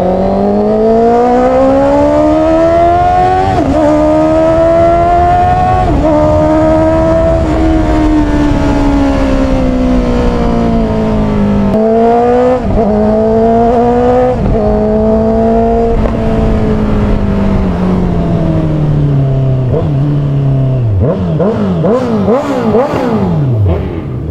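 A Honda CB650R motorcycle engine revs and pulls while riding, loud and close, its pitch swinging up and down through gear changes before a fast burst of rising and falling revs at the end.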